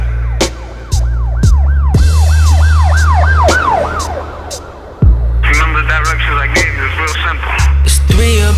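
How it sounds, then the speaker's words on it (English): Emergency sirens wail in repeated rising-and-falling sweeps, loud and up front, laid over a pulsing bass-heavy music track with sharp rhythmic hits. "Sirens coming for me."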